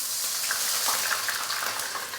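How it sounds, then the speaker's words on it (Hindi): Sliced onions frying in a karahi for tomato chicken karahi sizzle briskly as a little water is poured in, a steady close hiss and crackle with faint stirring. "पानी डालेंगे थोड़ा सा"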